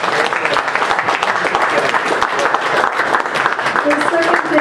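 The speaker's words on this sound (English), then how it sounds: "give yourselves a round of applause" An audience claps steadily at an entrepreneur showcase, a dense, sustained round of applause from a large crowd that holds at full strength throughout.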